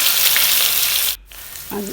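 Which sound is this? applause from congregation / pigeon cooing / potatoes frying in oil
potatoes frying in oil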